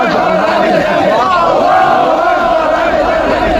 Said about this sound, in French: Cet homme est acclamé par la foule.